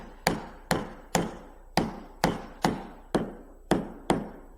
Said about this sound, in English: you can actually chop mortises with a bevel edge chisel